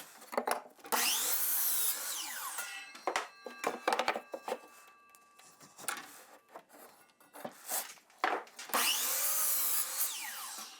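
Power saw cutting wood pieces at a 22.5 degree angle, with loud whining cuts at the start and end and quieter knocks and handling of wood between them.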